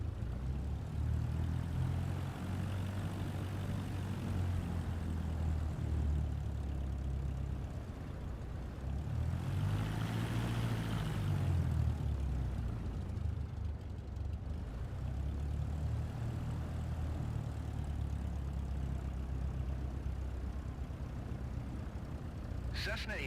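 A Cessna light aircraft taxiing in Microsoft Flight Simulator 2024: a constant low propeller engine drone with a brief rise and fall in pitch midway, steady and close throughout.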